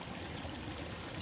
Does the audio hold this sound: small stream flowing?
yes